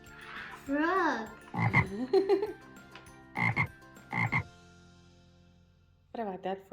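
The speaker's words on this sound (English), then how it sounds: "Frog." Frog croaking sound effect from an animal Jenga game: several loud, bubbly croak calls in bursts with pauses between them, a final croak near the end, and faint voices in the background.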